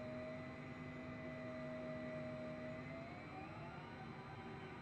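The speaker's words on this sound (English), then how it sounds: "You can hear the engines." Jet engines of an airliner taxiing at Los Angeles International Airport in Microsoft Flight Simulator, a steady whining roar with tonal hums that shift in pitch as power changes.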